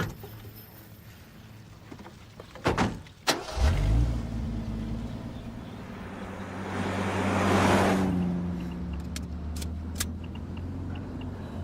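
A truck door thuds shut and the engine starts and revs before the vehicle pulls away in a swelling rumble, then fades, with a few light clicks at the end.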